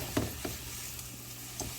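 Marinated beef frying in oil in a pan, a brief soft sizzle with a few stirring scrapes and taps, quiet and close, without talk.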